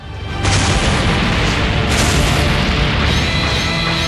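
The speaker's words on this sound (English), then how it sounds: "As an explosion rings out above a skyscraper. And that was no ordinary explosion. It was a ki blast." A huge animated ki blast explodes above a city skyscraper, a loud booming blast that swells fast and holds as a dense, roaring rumble for several seconds.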